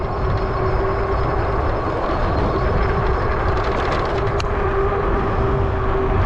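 Electric bike motor cruising on twist throttle, a loud steady hum with a constant whine, blended with rushing wind noise throughout and no talk.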